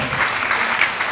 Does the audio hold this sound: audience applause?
yes